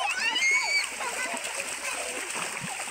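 People splash water on each other in a river during a jungle trek in the Konkan, a continuous close wash of splashing and rushing water with voices underneath.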